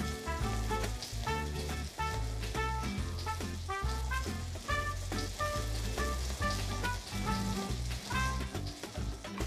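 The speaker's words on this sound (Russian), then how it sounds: "пока жарятся отбивные" Oil sizzles and crackles steadily as cutlets fry in a pan, with music playing loudly over it.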